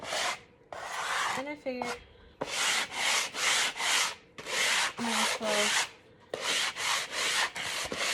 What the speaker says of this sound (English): first we're gonna start off by sanding